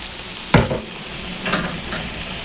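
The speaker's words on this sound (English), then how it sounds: "So we're just gonna dump in our rice just like that." Rice poured into a pot of boiling water in a home kitchen while cooking a sausage skillet supper, one sudden close splash and rush followed by a second softer pouring swell over a low simmering background.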